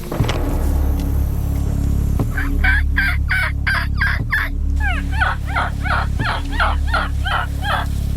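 Wild turkey gobbles ring out in quick repeated bursts by a cornfield, loud and close, over a constant low engine rumble.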